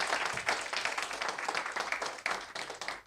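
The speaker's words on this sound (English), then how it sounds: "please give a round of applause to our speakers" Audience at a panel discussion on the ASEAN Summit applauds the speakers, a dense, steady patter of many hands clapping at moderate distance, sustained throughout without speech.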